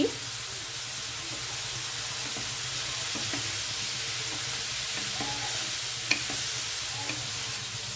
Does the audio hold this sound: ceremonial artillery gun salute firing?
no